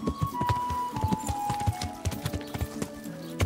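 A horse's hooves clip-clop at a steady walking rhythm in Kingdom Come: Deliverance, the rhythmic thuds clear and close, with faint game ambience and a tonal hum behind.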